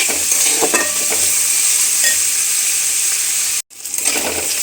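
Colocasia leaves and potatoes frying in a pan give off a loud, steady sizzle, with brief stirring scrapes and a sudden short drop to near silence before the hiss resumes.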